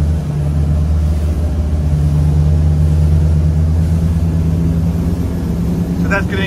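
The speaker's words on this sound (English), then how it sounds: "that's the electrics giving the diesels a boost there now, because we're accelerating" Volvo Penta hybrid electric and diesel engines on a Jeanneau NC 37 boat accelerate with a loud, steady low drone and hum, while people talk over the engine noise.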